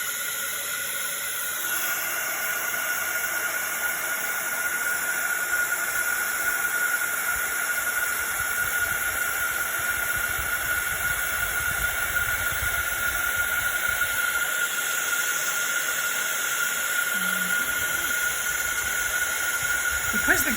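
A hot heat gun blows steadily on a card as embossing powder melts, giving a constant, loud hissing whoosh with a high whine that runs unbroken through the whole stretch.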